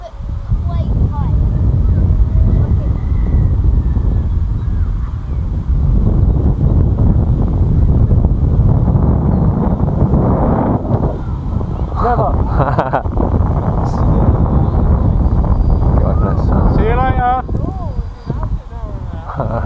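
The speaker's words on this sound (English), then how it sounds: "Wind's not really affecting it." Steady outdoor wind roars across the microphone throughout a model F-35 Lightning jet flight, loud and broadband, with people talking over it and brief whining motor tones near the end.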